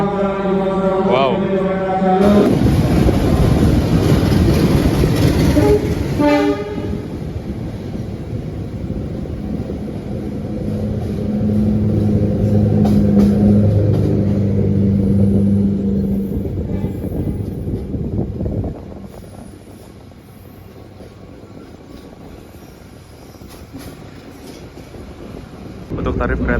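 The Mutiara Selatan train rumbles loudly as it pulls away from a station in Indonesia, with a high squeal early on and a steady rolling drone that drops off toward the end.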